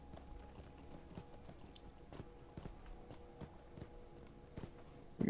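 A horse's hooves clip-clopping in a video game, faint, irregular clops spaced a fraction of a second apart at low volume, with no talk.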